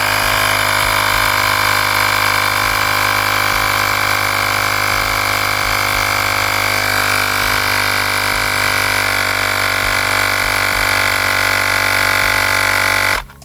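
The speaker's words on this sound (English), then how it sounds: "So let's finish putting air in it." An electric air pump drones steadily and loudly for several seconds while inflating an inner tube on a Varla Eagle One scooter up to 40 PSI, then shuts off abruptly.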